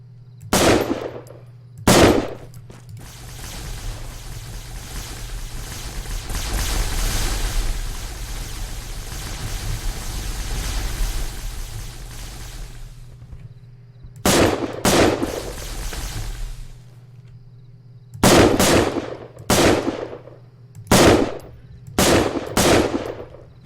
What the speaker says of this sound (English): they're pretty effective with those plasma rifles and plasma repeaters